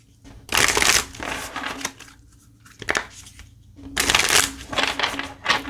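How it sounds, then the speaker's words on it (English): A deck of Work Your Light oracle cards is shuffled by hand in several bursts of riffling and flicking, close and fairly loud, separated by brief pauses, with no talking. "going to give those a shuffle."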